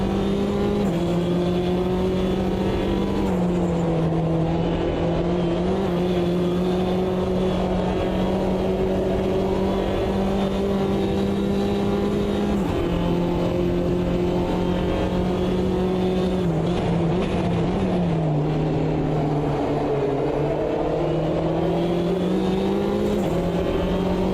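A Clio Cup race car engine in AMS2 drones at high revs for a long stretch around Kyalami, a steady loud buzzing tone that dips briefly with shifts and climbs again, with no talking.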